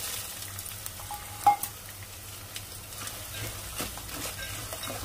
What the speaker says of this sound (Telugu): కొంచెం ఫ్రై చేసుకోవాలి